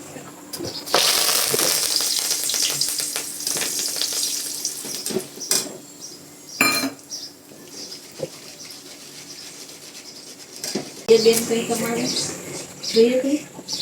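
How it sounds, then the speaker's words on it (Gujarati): Curry leaves frying in hot oil while making crispy poha chivda: a loud crackling sizzle bursts up, then settles into a steadier fry with scattered pops and utensil clinks as a person talks. "તે આપણે આમાં પેલા લીમડો તરવાનો છે."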